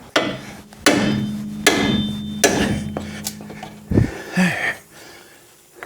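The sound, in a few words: hammer striking a pickle fork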